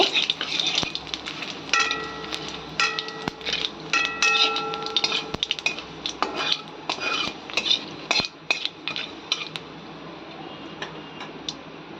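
A utensil scrapes and taps against a hot pan while bay leaves and whole cumin seeds are stirred gently, producing irregular metallic clinks and ticks close up, with no talking.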